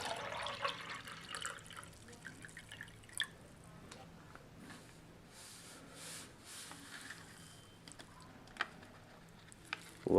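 Lemon-lime beverage powder is stirred into 12 ounces of water, giving quiet, close liquid swirling with faint scattered clinks and drips.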